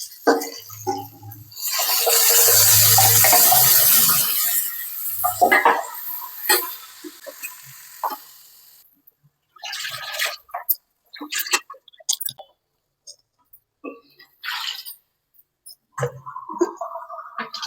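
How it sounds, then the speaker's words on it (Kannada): Water splashes into a hot pan of frying spicy drumstick pieces, a loud hissing sizzle that surges for a few seconds and then fades into quiet stirring clinks and scrapes. "ಸ್ವಲ್ಪ ನೀರು ಕೂಡ ಆ್ಯಡ್ ಮಾಡ್ಕೊಳ್ಳಿ."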